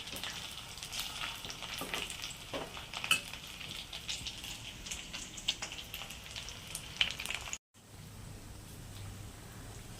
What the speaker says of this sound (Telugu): సో ఈ కలర్ ఇంకా డీప్ ఫ్రై అవ్వాలి.